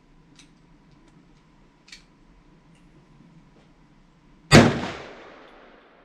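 Single sharp handgun shot, close and loud with a decaying ring, following a few faint clicks of handling in a quiet outdoor setting; a handgun fitted with a laser, firing ammunition that had been stored for years.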